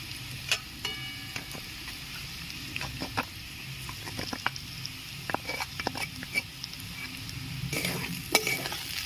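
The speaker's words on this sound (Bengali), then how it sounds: "পোস্ত দিয়ে বেশিক্ষণ নাড়বো না সামান্য একটু নেড়ে ফেড়ে আমি জল দিয়ে দেবো" Ground poppy seed paste being stirred in a pan with potato and onion, heard as soft sizzling under a run of light clicks and scrapes from the spoon, fairly close and continuous.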